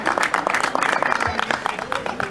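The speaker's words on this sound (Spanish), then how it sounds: "el aplauso para todos y especialmente para ellos." Audience applause at a supermarket's fifth anniversary celebration in Capitán Sarmiento, brisk clapping from a gathered crowd heard with a voice talking over it.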